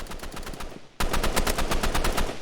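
Automatic gunfire in a Roblox shooting game rattles loud and close, a brief burst followed by a sustained rapid stream of evenly spaced shots, with no talking.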